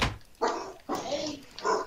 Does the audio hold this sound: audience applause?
no